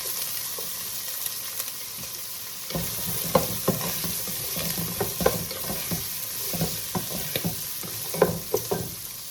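Chopped celery and onions frying in a pan over lowered heat for low-carb sausage stuffing, a steady sizzle broken by irregular scraping and stirring clatters, close and clear with no talking.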